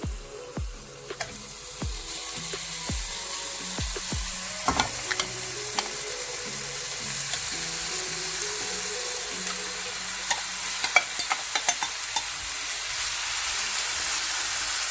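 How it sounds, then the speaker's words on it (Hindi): Chicken fries in a hot pan, a steady close sizzle broken by sharp scraping and knocking strokes of a spoon as the pieces are stirred and spread out. "पैन हमारा गर्म हो चुका है। अब सबसे पहले हम इसके अंदर चिकन ऐड करते हैं।"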